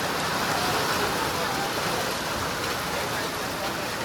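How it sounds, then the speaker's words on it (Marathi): Heavy rain pouring outdoors: a dense, unbroken hiss of falling water that stays loud and even from start to finish. "एकदम पाऊस आलाय, जोराचा, एकदम जोराचा पाऊस आलाय."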